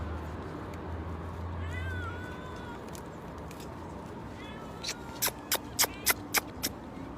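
Stray cats meow repeatedly while being fed on a street in Madina, their calls clear over steady outdoor background noise, ending in a quick run of sharp, loud mews.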